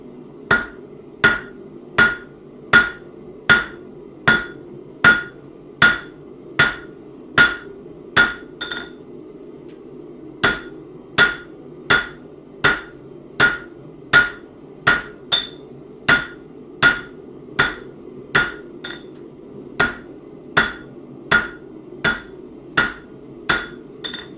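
A hammer strikes hot metal on an anvil while a trivet is forged, in two long runs of sharp, evenly spaced ringing blows, close and loud, with a brief pause between runs and no talk.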